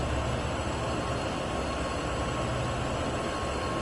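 A freight locomotive in Train Sim World 2 on Sherman Hill, a steady broadband rumble and hiss of rail noise throughout, continuous and fairly loud with no pauses.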